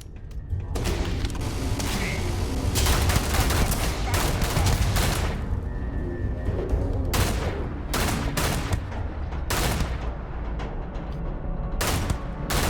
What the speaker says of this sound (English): Shooting at a corpse there.